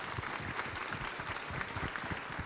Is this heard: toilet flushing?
no